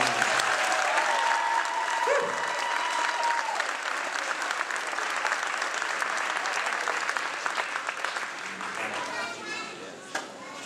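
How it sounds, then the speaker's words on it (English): An audience at a school Christmas play gives a round of applause, full steady clapping that thins toward the end, with voices and a brief knock near the close. "Let's give one more round of applause."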